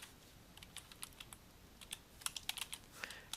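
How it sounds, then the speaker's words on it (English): Typing on a computer keyboard into a search box: quick, irregular key clicks, close and faint, speeding into a dense flurry partway through, with no voices. "I can come up here to the search box and type in"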